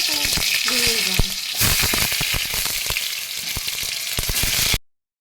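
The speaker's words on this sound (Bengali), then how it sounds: "প্রথমে আলুগুলো আর তোমার ওলগুলো একটু ভেজে তুলে নেব" Potato pieces and chunks of boiled elephant foot yam fry in hot oil, a loud steady sizzle with stirring clatter, then cutting off abruptly near the end.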